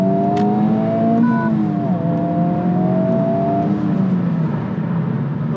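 A Honda Civic Type R FL5 accelerates while merging onto a freeway, its engine note climbing smoothly through the gears under a steady road and cabin rumble, heard from inside at moderate volume.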